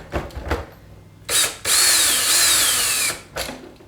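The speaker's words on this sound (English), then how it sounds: "we got a drill because that'll make us a whole lot quicker" A cordless power drill drives fasteners into a Wildgame Innovations Evolution 225 deer feeder: a few short buzzing bursts, then one long whining run and a final brief burst, close and loud with quiet gaps between.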